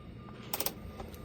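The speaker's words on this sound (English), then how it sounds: "So I went and grabbed me a ratcheting wrench, the 11 millimeter" An 11 mm ratcheting wrench turning a bolt during a rear mudflap install on a Ford Transit: a faint, quick burst of ratchet clicks followed by a couple of isolated clicks.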